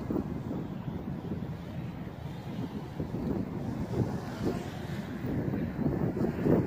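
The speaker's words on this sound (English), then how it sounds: "Fighting with the wind here." Steady wind buffets the microphone outdoors while a JJRC X1 drone with 6045 three-bladed props flies, a continuous low rushing roar that swells slightly toward the end.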